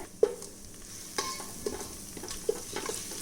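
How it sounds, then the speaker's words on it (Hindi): Green chili and grated ginger frying in oil inside a rice cooker, a soft continuous sizzle with occasional spoon scrapes and clinks as it is stirred. "इसको भी 1 मिनट भून लेते हैं।"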